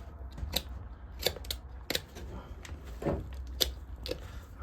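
Scissors or shears snipping leather off a pair of work boots to make a belt holster, several crisp separate cuts spaced out at close range, with some handling noise between them.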